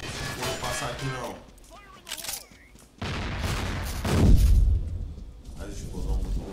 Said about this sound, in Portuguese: A explosão muito louca desse jogo.